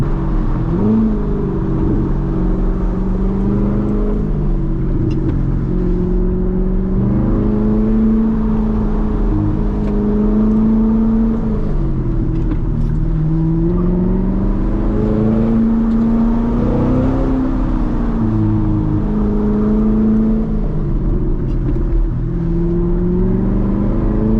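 A Chevrolet C7 Corvette with a seven-speed manual transmission drives steadily, its engine droning loud and close from inside the car, the pitch rising and falling with throttle and gear changes throughout.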